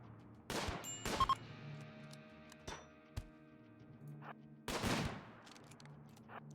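Bursts of gunfire from a colony battle in the video game Rimworld: two close volleys, a few lone sharp shots, then another heavy volley, with a steady low hum underneath and no talking.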